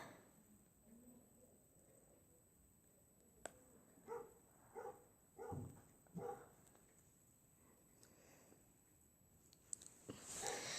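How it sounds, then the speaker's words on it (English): Several dogs barking indoors in short yapping bursts, some whimpering between them, fairly faint and in the background. "my dogs are barking"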